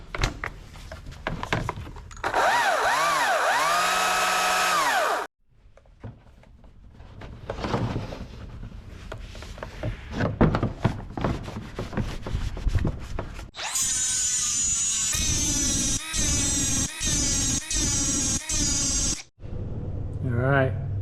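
A chain-driven power tool is test-run after fresh chain and bar oil is added. Its motor whines loudly in a few long runs separated by pauses, with quick repeated revs near the end.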